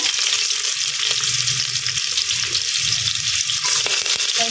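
Sliced onions frying in a pan of hot oil with cardamom and cinnamon, a steady, close sizzle lasting throughout with occasional soft stirring scrapes.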